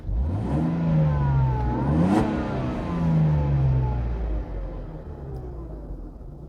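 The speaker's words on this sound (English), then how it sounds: "we'll start the engine" A Mercedes-Benz SL320 R129 engine turns over and catches, revving up sharply then settling into a lower idle, close and clear.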